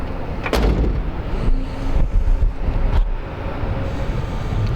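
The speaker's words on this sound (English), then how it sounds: "Doors shut nice." The door of a restored 1970 Ford Mustang Mach 1 428 Dual Quad resto-mod shuts with a firm, solid thump, followed by a few lighter knocks against loud outdoor background noise at a lakeside event.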